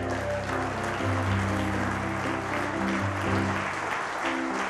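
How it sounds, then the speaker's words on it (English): Church congregation applauding during a service, steady broadband clapping throughout with sustained organ or keyboard chords sounding underneath. "Huge applause."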